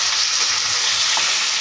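Mutton frying in a pan as it is browned for kosha, a dense continuous sizzle with faint stirring, close and loud, no talking.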